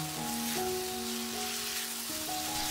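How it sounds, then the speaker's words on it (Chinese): Pork slices sizzle in a hot wok with sauce for green-onion stir-fried pork, a steady close frying hiss throughout with a faint tonal hum running beneath it. "将肉片再次倒入锅中， 翻炒均匀后，加入提前做好的料汁"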